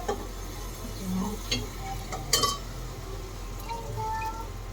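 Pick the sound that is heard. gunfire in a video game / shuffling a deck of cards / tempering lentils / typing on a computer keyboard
tempering lentils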